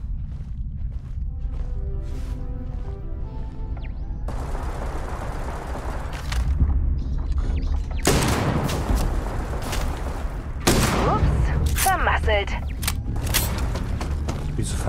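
Enemy gunfire in Starfield crackles in repeated bursts and sharp loud cracks over a steady low rumble, growing denser toward the end, with mechanical clanks between volleys.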